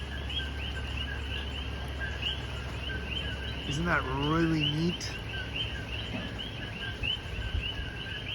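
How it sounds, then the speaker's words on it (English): Coqui frogs chirp at night at a hilltop spot in St. Thomas, Virgin Islands, a steady high-pitched repeating chorus mixed with insect trills, moderately distant, with someone speaking briefly over it. "Those are actually little frogs that are chirping."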